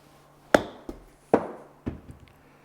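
Several sharp, close impacts from a golf sand iron striking the ball on a chip shot, four distinct knocks spaced irregularly over a quiet outdoor background with no talking.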